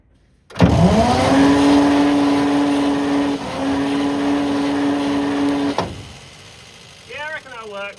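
The engine of a Conqueror tank, under rebuild, cranks and fires. A loud, sustained harmonic roar starts abruptly and holds for about five seconds, then cuts out. Faint voices follow near the end.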